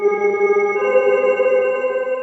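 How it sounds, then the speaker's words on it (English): A MicroDexed FM synthesizer holds a sustained, bright, harmonically rich tone with reverb added, one steady voice ringing evenly and close with a soft reverberant wash behind it. "A little bit of reverb."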